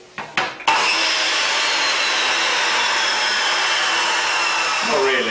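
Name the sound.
chop saw cutting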